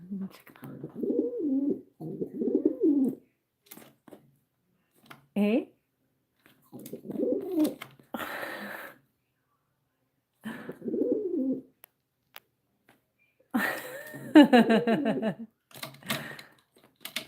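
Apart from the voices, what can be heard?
pet pigeon cooing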